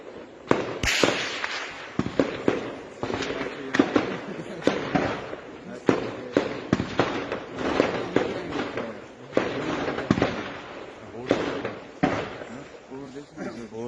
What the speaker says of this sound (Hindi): धमाके के साथ आतंकी ठिकाने को भी ध्वस्त कर दिया गया है।